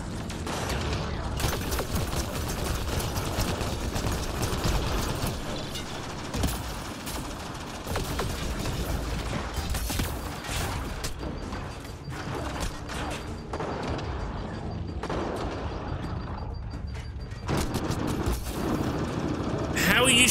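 Sci-fi gunfire from a Mass Effect Andromeda firefight, dense and continuous with mechanical clatter and bursts, sustained throughout under occasional game dialogue.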